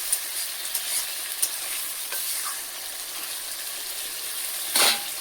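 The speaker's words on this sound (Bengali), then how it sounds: "টক দই দিয়ে ভাজা আলুটা দিয়ে কষাই নিব।" Fried potatoes stirred in a pan with sour yogurt, cooked in little oil after spices are fried, giving a steady loud sizzle with light stirring scrapes and a sharper clatter near the end.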